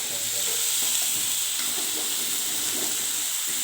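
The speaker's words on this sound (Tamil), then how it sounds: "இது நல்லா வதங்கட்டும் இதை நல்லா மிக்ஸ் பண்ணிக்கிறேன்" Vegetables, including snake gourd, sauté and get stirred in a hot pan, giving a constant close hiss of frying with soft scraping and faint watery crackle.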